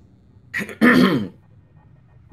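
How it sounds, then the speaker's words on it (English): A commentator coughs briefly and then clears a cold-roughened throat in one rasping burst, close and loud, with quiet room tone on either side. "Pardon my coughing."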